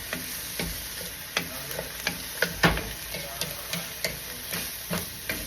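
Pork with garlic and onions sizzles steadily in a pan while a utensil scrapes and knocks against it in irregular strokes, close and fairly quiet.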